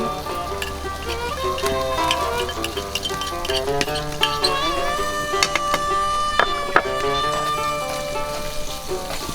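Garlic sizzling in a hot pan, a steady crackling fry that runs the whole time with occasional sharp clinks and stirring knocks.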